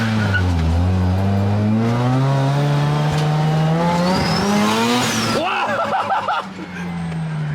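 An old pickup truck, an older project vehicle, accelerates hard with its engine revving up through the gears and a sharp tire squeal, loud and close, with a pitch drop near the end.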